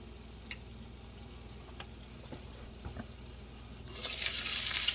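Burger patties fry in a pan, faint at first under a few soft clicks and taps, then the sizzle swells into a loud, steady hiss near the end.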